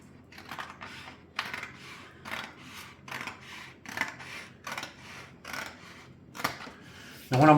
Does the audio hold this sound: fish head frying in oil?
no